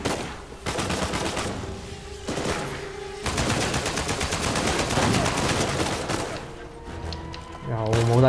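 Gunfire in the Uncharted 4: A Thief's End video game while the character moves, rapid loud bursts of shots and echoing fire almost continuously, with someone talking faintly underneath.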